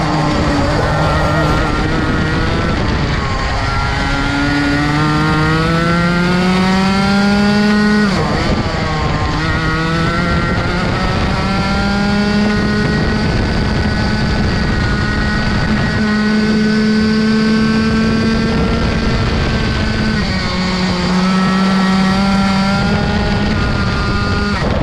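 A Tony Kart with a Rotax Max engine runs on track, its loud, continuous engine note climbing and falling in pitch as it accelerates and lifts off through corners, with no talking.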